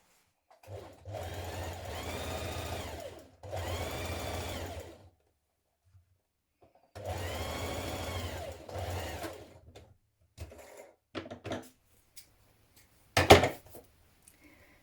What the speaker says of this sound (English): We're now going to stitch this in place with a 1 centimetre seam.